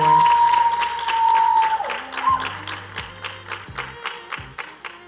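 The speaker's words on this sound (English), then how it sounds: "Let's give both our king and queen contestants a round of applause for those amazing orators." An audience applauds king and queen contestants after their oratory at a Mister and Miss HBCU competition, crowd clapping heard under sustained music tones, loudest at first and then easing into sparser claps.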